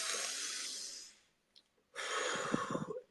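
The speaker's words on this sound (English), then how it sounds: "I'll take a deep breath, and I'll blow out" A deep breath drawn in through the nose and blown out through the mouth, two long breathy rushes separated by a short near-silent pause, close and fairly loud with no talking.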